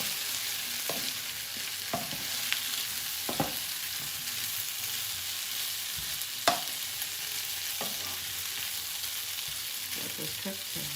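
Garlic butter steak and potatoes sizzle steadily in a pan, a dense continuous hiss with scattered sharp clicks and scrapes of stirring, moderately close and without any talk.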